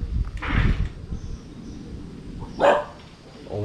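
Dogs at a small roadside temple let out two short bursts of barking, one near the start and another a couple of seconds later, with quiet outdoor background between them.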